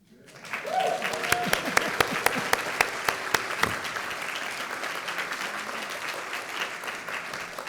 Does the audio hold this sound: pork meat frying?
no